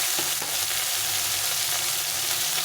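Tomatoes frying in a pan for a fish curry, giving off a steady, close sizzle with a few faint scrapes of stirring and no voices.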